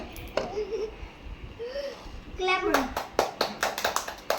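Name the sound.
children clapping hands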